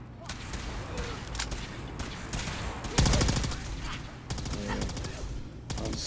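The Experiment 18A weapon firing in Fallout 4 gameplay, with repeated bursts of rapid gunfire and one sharp louder volley midway, heard at moderate level over a steady game background.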